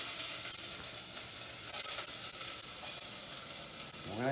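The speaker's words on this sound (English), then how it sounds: "we're going to start browning our onions and garlic" Onions sizzling as they brown in hot olive oil, a steady close frying hiss throughout, with a brief clink of a utensil near the end.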